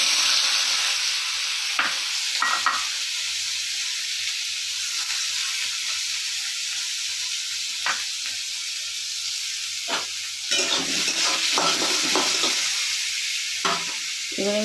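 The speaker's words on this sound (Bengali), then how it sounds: "এবার আমি পেঁয়াজ কুচিগুলো দিয়ে দিচ্ছি।" Chopped onions fry in hot oil with a steady, bright sizzling hiss, broken by several sharp scrapes and clacks of a spatula stirring the pan, close up and continuous.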